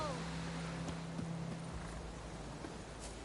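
Hooves of Roach, the horse in The Witcher 3, clopping along at a slow walk, faint beneath a steady ambient wash, with someone speaking over the first half.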